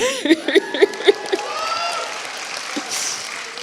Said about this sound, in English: Yes, you can cheer.